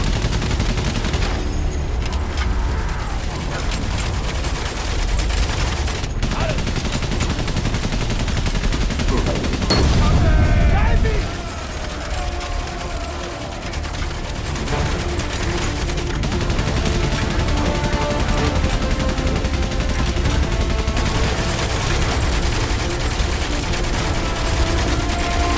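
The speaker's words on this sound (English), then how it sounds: "Can't get hit by any machine gun fire." Sustained gunfire and battle noise in the World War I game Valiant Hearts: The Great War, dense and continuous for the whole stretch, with a louder burst near the middle and no one speaking.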